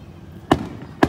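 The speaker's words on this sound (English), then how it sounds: "More Princeton's fireworks coming at you." Two sharp Fourth of July firework bangs go off about half a second apart, fairly close, each a quick loud burst over a quiet outdoor background.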